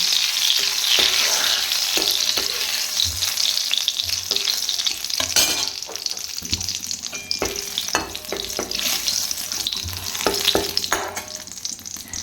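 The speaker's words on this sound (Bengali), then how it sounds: "কড়াইতে তেল আর দিয়ে দিতে হবে দুটো শুকনো লঙ্কা ঠিক আছে শুকনো লঙ্কাগুলোকে ভালো করে আমার ফুটতে হবে" Two dried red chillies fry in oil in a kadai, a tempering for sour dal, with a loud, continuous, close sizzle broken by sharp scrapes and taps of stirring.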